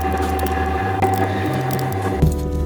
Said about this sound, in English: grab your 10mm spanner and tighten these